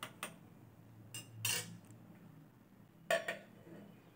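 Spoon stirring khichuri in a cooking pot, with a few sharp metal clinks scattered across a quiet background and a short double tap near the end.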